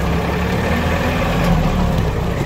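An ISEKI GEAS25 Japanese 25-horsepower mini tractor with automatic reverse, its engine droning loud and steady at close range as it drives at higher speed, with no voices.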